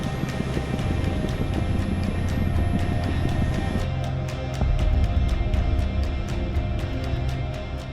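Rescue helicopter in flight, its rotors and engine making a loud, steady, rhythmic thumping drone that stays constant, with a slight shift in tone midway.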